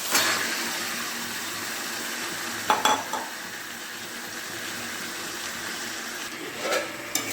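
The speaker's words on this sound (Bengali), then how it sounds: "খুব ভালোভাবে নাড়াচড়া করে নিচ্ছি" Chicken pieces stirred into fried spice paste in a pan for chicken do pyaza, giving a steady soft sizzle with a couple of brief scraping stir bursts, close and moderately loud with no talk.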